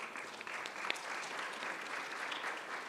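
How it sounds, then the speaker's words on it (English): An audience at the opening ceremony of the 2019 IPSF World Congress in Kigali claps for a speaker, a steady, dense wash of applause filling the hall without a break. "you can clap for her."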